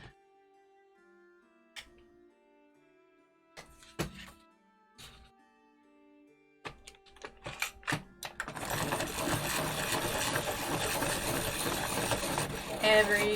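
Colored pencils, Polychromos, worked in a sharpener: a few sparse clicks and knocks at first, then a loud continuous mechanical whirring grind that runs steadily to the end.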